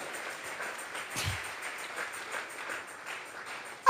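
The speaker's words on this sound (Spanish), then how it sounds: "Vamos a regalarle ofrenda de palmas al Dios de la gloria." A church congregation claps together in an offering of applause to God, a steady, fairly faint wash of many hands that swells slightly midway and carries on throughout.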